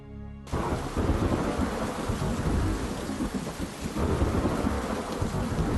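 Steady heavy rain pours with rumbling thunder through a sudden unseasonal storm, a loud continuous wash after a quiet opening moment, rolling on without pause.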